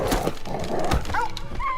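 A dog in the video game Indiana Jones and the Great Circle gives short whimpers and yips over a busy game soundscape, moderately loud, with no speech.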